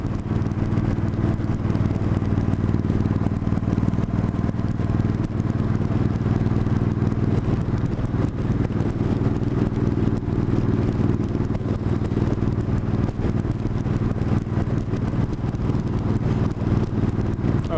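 A motorcycle with angel-eye headlights rides along a mountain road near Canmore, heard from another motorcycle amid a loud, constant engine drone and wind roar, with no distinct pass-by standing out.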